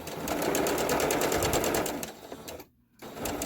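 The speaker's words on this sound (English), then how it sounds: "So we're going to continue to sew maybe all the way up to here." A sewing machine stitches a fabric face mask in a loud, rapid, steady mechanical run that eases off near the end, stops briefly, then starts up again.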